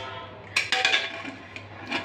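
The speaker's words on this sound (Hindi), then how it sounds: "फाइनली अब हम करते हैं कुकर का ढक्कन बंद" A pressure cooker lid being closed: a few sharp metallic clanks and clinks in quick succession, close and fairly loud over a faint low hum, with no speech.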